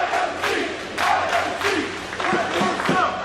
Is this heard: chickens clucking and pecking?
no